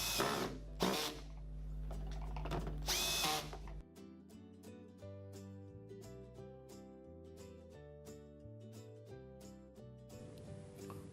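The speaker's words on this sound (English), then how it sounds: "Connect the hose casing together using a drill or Phillips head screwdriver." Two short bursts of a power drill driving screws into a hose reel casing, followed by steady tonal background music.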